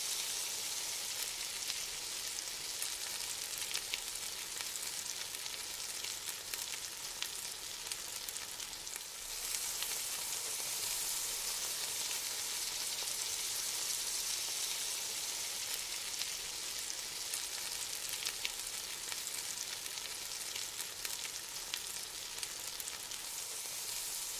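A ribeye steak fries in hot oil in a pan, giving a steady, dense, unbroken sizzle with faint crackles that carries on alone for the whole stretch.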